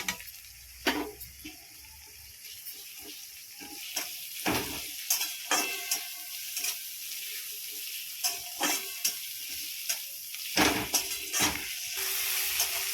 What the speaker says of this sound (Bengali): এর মশলাটাকে আমি একটু ভালো করে কষিয়ে নেব টমেটো কুচিটা দিয়ে দিচ্ছি